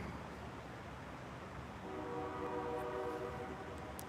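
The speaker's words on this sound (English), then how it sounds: "I hear the train horn again." A train horn sounds in the distance, a steady chord that starts partway through and holds to the end over a constant rumble of background noise.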